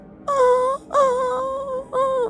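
A person imitates a scared dog whining, three long, drawn-out nasal whimpers with short pauses between, close and clear.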